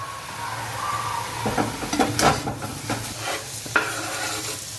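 Finely chopped curry leaves are stirred into a hot frying pan for a Malabar chicken cutlet, with several scraping stir strokes over a soft continuous sizzle close by and no talk.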